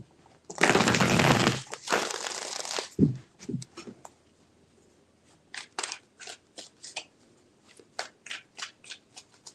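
Tarot cards riffle-shuffled in one loud, dense burst, then a few soft taps and a run of crisp, evenly spaced snaps as the deck is squared and handled up close, with no talk.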